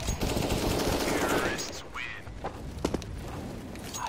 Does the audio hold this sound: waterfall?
no